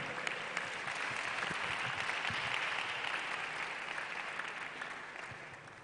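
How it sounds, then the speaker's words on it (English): An audience at a roadshow session in Kumasi gives a sustained round of applause, dense steady clapping from a large crowd that holds evenly for several seconds and tapers slightly at the end. "Please, let's give her a big round of applause."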